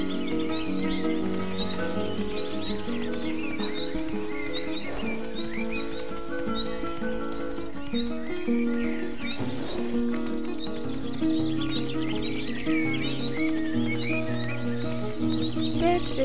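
A horse rides in the Mein Pferd video game, with a soft, continuous clip-clop of hoofbeats and occasional neighs under steady game music and chirping birds.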